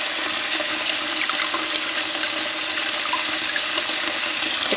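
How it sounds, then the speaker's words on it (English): Steady running tap water fills a sink while yarn dyed in black tea, chamomile and fruity herbal tea is rinsed in lukewarm water, a continuous close splashing flow with no voices. "I am going to remove them from the bath to wash them off in some lukewarm water"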